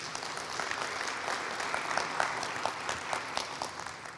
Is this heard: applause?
yes